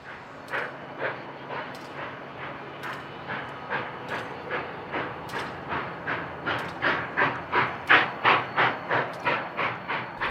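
Union Pacific 844 steam locomotive works hard through Wilcox, Arizona, its exhaust chuffing in a steady rhythm that speeds up and grows louder as it nears, with rail clatter underneath.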